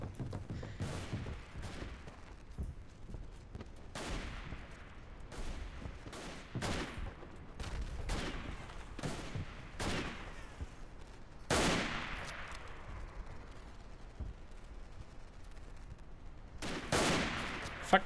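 Rapid bursts of rifle fire in the video game Verdun crack repeatedly during a deathmatch, some single shots and some volleys, loud and close, with brief gaps between exchanges.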